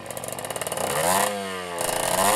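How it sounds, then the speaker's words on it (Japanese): A Honda NSR50 motorcycle's small two-stroke engine running just after starting, a close buzzing idle that rises into a brief rev and settles, sounding sluggish. "エンジンは始動しましたが、なんとなくもっさりした感じがあります。"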